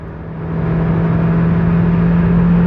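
A Volvo S40 2.0 T engine accelerates, heard from inside the cabin. A low drone swells over the first half second, then holds as a loud, steady hum with no talking.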